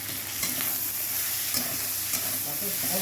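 Slit green chillies hit hot oil in a pan of small-fish curry with potato and bitter gourd, giving a steady close sizzle with light stirring scrapes throughout, no voices.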